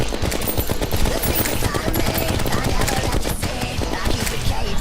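Rapid automatic gunfire from the shark-themed gun in Terraria, a dense, continuous stream of quick shots layered over game music and effects, loud and steady throughout.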